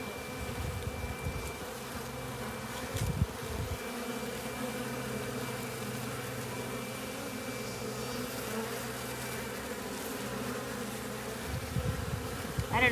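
Honeybees swarm around a beekeeper at an open hive, a close, continuous buzzing hum that wavers as the insects move about, with no talking.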